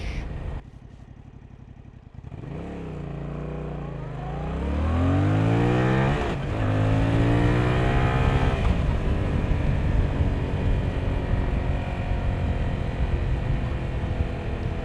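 A Yamaha MT-07 motorcycle pulls away hard, the engine note climbing steeply through the gears with a sharp shift midway, loud and close from a riding position with wind rushing throughout.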